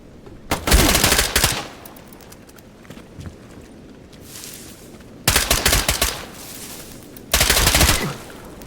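Full-auto gunfire in STALKER GAMMA, three loud sustained bursts of rapid shots with quieter scattered pops and ambient noise between them.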